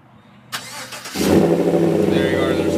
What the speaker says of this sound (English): activate the remote start, and you'll hear the throttle here in a minute here